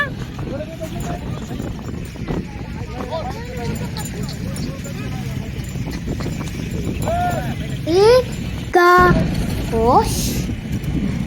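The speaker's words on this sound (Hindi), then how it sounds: "वहाँ पे थोड़े छोटे साइज़ के भी घोड़े थे" Horses walking during horse riding at Alsaif Beach in Jeddah, with soft hoof clip-clops mostly masked by people and children talking over steady outdoor background noise.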